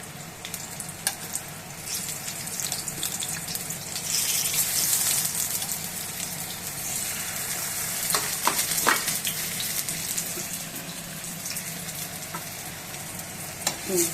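Food frying in a pan during home cooking, a steady close sizzle with occasional stirring scrapes and crackles throughout, no voices.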